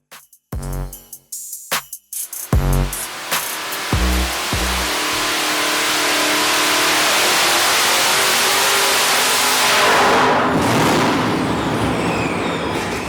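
An LS-powered car's engine on a dyno gives a few sharp blips and then a sustained sweep from about 4,500 to 6,000 rpm, a loud rising roar that swells into a strained peak before easing off near the end.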